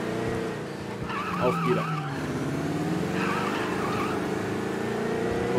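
A 165-horsepower taxi in the Mafia video game drives with a steady engine drone and sharp tire squeals and skids, loud and close, with a brief spoken word near the start.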